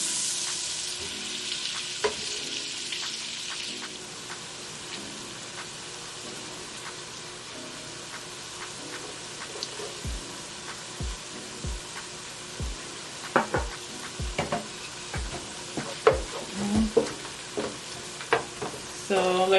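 Vegetables sizzle in a pot as the base of a cream of broccoli soup, a low steady frying hiss with a scatter of crisp spoon taps and stirring clicks growing busier toward the end.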